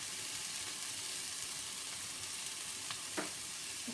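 Frozen peas and squeezy ginger fry in a pan, a steady soft sizzle and crackle running throughout with a faint stirring scrape near the end, no talk.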